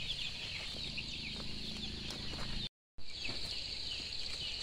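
Brood of 21-day-old chicks in a highland farm brooder warmed by a drum heater, with soft cheeping and clucking over a steady high insect-like hiss; brief silent gap midway, no talking.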